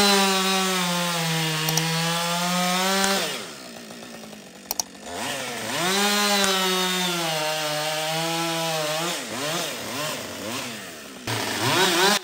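A chainsaw bucks log rounds on a log table, its engine droning steadily loud under cutting load, dipping and rising in pitch as it revs and bites, with brief idle lulls between cuts.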